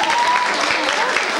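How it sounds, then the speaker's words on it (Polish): Studio audience applause on a dating show, a dense, steady wash of many hands clapping at close range, filling the whole short stretch. "Brawa proszę."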